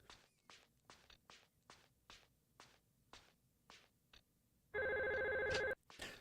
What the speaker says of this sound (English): Phone always rings.